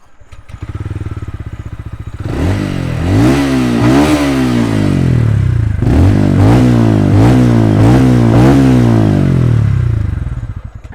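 TVS Ronin 225 motorcycle engine idling, then revved hard in repeated rising bursts with an uneven exhaust rumble, close and loud throughout.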